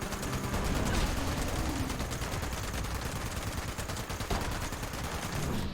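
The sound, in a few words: gunfire from a Mr. Gutsy robot in video game Fallout 76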